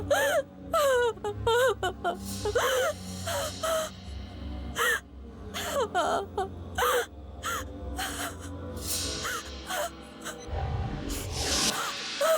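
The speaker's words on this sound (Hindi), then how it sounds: "ये रोने की आवाज? कौन रो रहा है?" Eerie wailing and moaning cries, a person weeping in a drawn-out, wavering way, rise and fall in repeated bursts over a low droning background.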